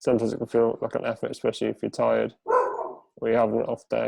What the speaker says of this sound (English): And I'm sorry about my dog